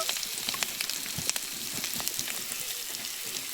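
Food frying in a pan and being stirred, a soft continuous crackling sizzle with small pops, fairly quiet and without speech.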